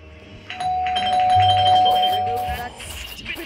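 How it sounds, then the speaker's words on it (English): Doorbell in the Roblox game Ultra Power Tycoon, a sustained electronic chime tone ringing for about two seconds over busy game sounds and background voice chatter. "Don't you dare touch my doorbell again!"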